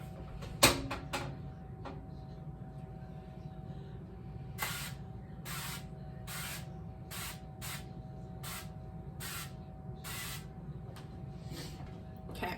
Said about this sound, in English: we just need to prep our pan really, really well with the cooking spray